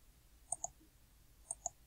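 Two pairs of crisp, faint computer mouse clicks sound about a second apart, close and isolated against quiet room tone while a spreadsheet cell is selected.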